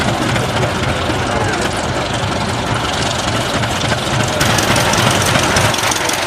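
Antique tractor engine pulling a five-bottom plow at a vintage farm show, a loud, steady, heavy low rumble with constant vibration throughout, close to the recorder and with no speech over it.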